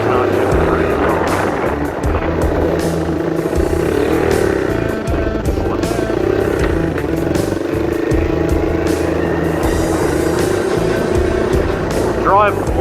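The engine of a 1984 Honda 125M ATC three-wheeler with a slipping clutch that won't stay in gear drones loudly and continuously nearby. Someone talks over the steady engine noise.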